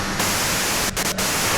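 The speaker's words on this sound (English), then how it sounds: "you can do it through the white noise." Radio white-noise static from the video game Disco Elysium: a steady, loud broadband hiss that holds throughout, broken only by two brief dropouts near the middle.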